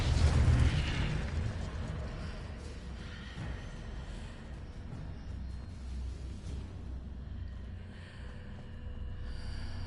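A booming Confringo spell explosion in the Hogwarts Legacy video game opens with a deep burst, then trails into a long rumbling wash with faint crackles and soft whooshes.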